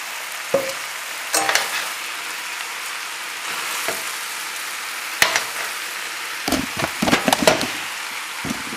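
Spinach sautés in a pan, a soft steady sizzle broken by sharp utensil knocks and scrapes, several clustered taps toward the end, with no talking.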